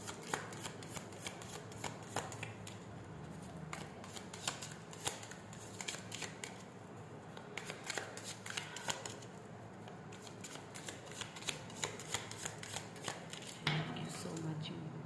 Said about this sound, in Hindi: तो हम कार्ड को शफल करते हैं